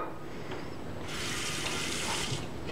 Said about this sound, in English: First, take this large pot and fill it with water.